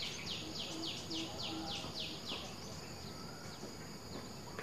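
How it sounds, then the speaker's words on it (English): Faint birds and insects call in a quiet durian forest, a run of evenly repeated chirping notes early on over a steady background buzz, distant and soft. "You can hear the bird life."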